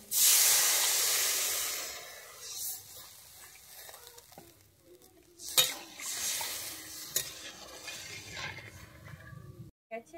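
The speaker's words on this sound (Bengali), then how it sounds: "দিয়ে আমি আরেকটু ভালোভাবে নেড়ে চেড়ে নিচ্ছি" Bottle gourd kofta curry is stirred in a hot pan, opening with a loud steamy hiss that fades into quieter sizzling broken by several sharp scrapes and clinks of the spoon, with no talk.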